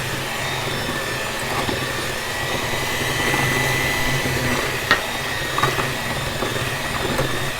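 An electric mixer blends eggs one at a time into oatmeal raisin cookie dough, producing a continuous loud motor whir that holds steady throughout with a few faint clinks, and no talking.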